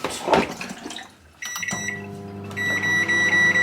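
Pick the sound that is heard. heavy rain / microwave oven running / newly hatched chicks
microwave oven running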